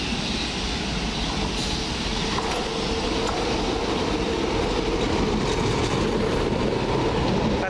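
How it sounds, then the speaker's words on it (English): A steam train runs along the line near Stamford Brook, a loud, continuous rumble with rolling wheel clatter and faint squeals, with no voices. "follow that steam train"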